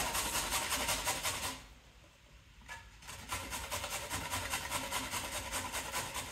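Two carrots are grated by hand, giving a steady rhythmic rasping of repeated strokes up close that pauses briefly midway before resuming.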